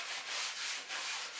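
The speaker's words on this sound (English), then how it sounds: "you want to give it a good sanding with your sandpaper and get that sheen off of it" Sandpaper is rubbed by hand over a painted chair frame in steady back-and-forth strokes, making a close, continuous hiss that swells and dips with each pass.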